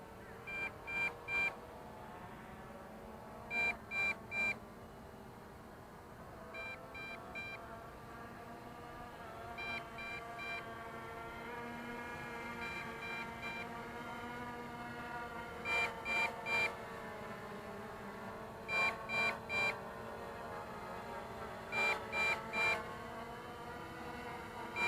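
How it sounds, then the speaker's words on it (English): MJX Bugs drone low battery warning: repeated bursts of three or four high electronic beeps recurring every few seconds over a steady motor whine, fairly faint. "the low battery warning is going off"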